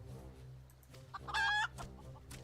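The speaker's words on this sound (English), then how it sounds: "I tamed a rooster and painted it green" A green-painted rooster clucks in a Final Fantasy game, with one short, loud, harmonic cluck near the middle and a quiet game backdrop on either side.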